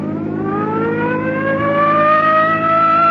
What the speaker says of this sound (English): Come on, hit your siren.